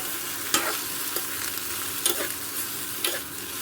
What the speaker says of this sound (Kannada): ಒಂದು 5ರಿಂದ 8 ನಿಮಿಷಗಳ ಕಾಲ ಹುರಿಬೇಕು ಇದನ್ನು